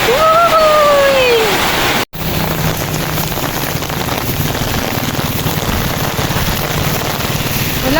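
Heavy rain pours steadily and loudly, a dense continuous hiss of water on surfaces that runs almost unbroken, with a brief cut near the start and a few high whistling tones early on.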